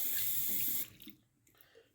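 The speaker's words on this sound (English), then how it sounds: "get some water in this brush here." Tap water runs loudly and steadily into a natural hair shaving brush, then cuts off partway through, leaving only faint drips and handling noise.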